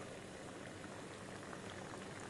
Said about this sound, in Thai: และตอนนี้น้ำเดือดจัดๆแล้ว